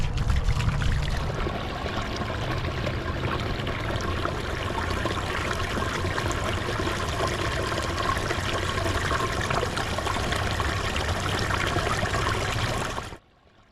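Small waterfall flowing steadily, a loud continuous rushing splash of water close by that holds even for over twelve seconds before cutting off abruptly.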